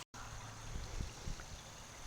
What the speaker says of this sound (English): Here's the pond's waterfall that I put in.